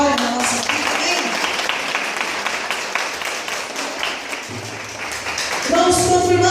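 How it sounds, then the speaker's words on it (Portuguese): Congregation at a Catholic prayer group gathering applauding together, a dense burst of clapping sustained throughout, with voices audible over it and a brief swell near the end. "Aplauda essa palavra de vitória na nossa vida."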